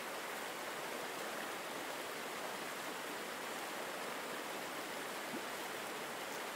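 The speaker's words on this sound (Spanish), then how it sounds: "El sonido de la cascada sigue siendo un telón de fondo constante" A waterfall in a garden at dusk pours in a steady, dense rush of falling water, unbroken and even throughout, with no voices.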